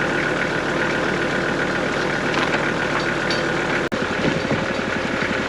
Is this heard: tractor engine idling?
yes